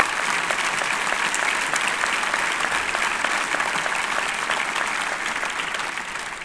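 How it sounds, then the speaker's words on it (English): Sustained applause from a graduation commencement crowd, a dense steady roar of many hands clapping at an even level throughout. "A big round of applause."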